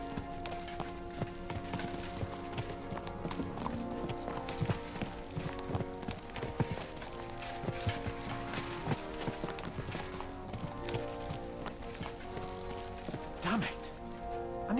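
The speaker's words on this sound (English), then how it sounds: "Let's really spur these horses on, eh?" Horses gallop in the medieval game Kingdom Come: Deliverance 2, their hooves beating a rapid, steady clip-clop that runs throughout over a continuous tonal backdrop.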